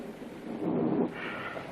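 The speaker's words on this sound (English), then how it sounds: "And it's still raining." Steady rain hisses throughout while a low roll of thunder swells briefly near the middle and fades, heard as a continuous storm backdrop.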